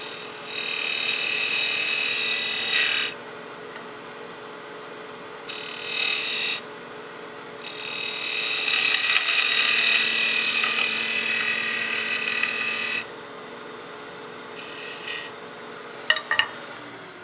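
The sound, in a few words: woodturning peel cut and slicing cut on a lathe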